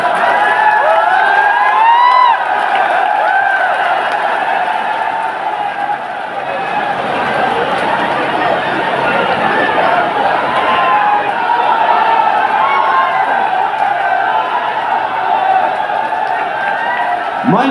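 Large crowd applauding and cheering to welcome Union Minister Jyotiraditya Scindia at a political rally, a dense, sustained roar of clapping and shouts that stays loud throughout.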